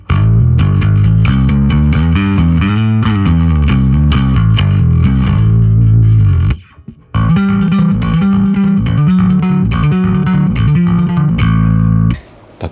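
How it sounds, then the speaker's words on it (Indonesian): Dry bass guitar played on stage rig without flanger, a busy run of distorted, heavily driven notes that drops out briefly midway before resuming, loud and close with no voices. "Kalau nggak pakai flanger, bunyinya seperti ini."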